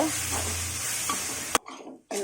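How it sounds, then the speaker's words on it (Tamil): Tomatoes with turmeric, coriander and mint sauté in a pan, a close sizzle with stirring scrapes, then a sharp clatter and a brief near-silent gap before the frying noise returns. "சேர்த்து கொஞ்சம் நல்லா வதக்கிக்கோங்க."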